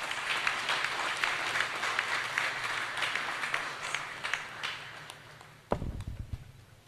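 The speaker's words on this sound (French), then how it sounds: "Applaudissez, s'il vous plaît." An audience at a graduation ceremony of an evangelical theology seminary in Artibonite claps steadily in a dense, moderately distant wash of applause that gradually thins, with a few louder close claps and knocks near the end.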